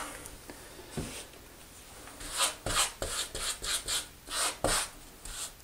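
A grout float rasps as it works grout into shower wall tile, a run of short scraping strokes in a steady back-and-forth rhythm, close and fairly quiet, with no talking.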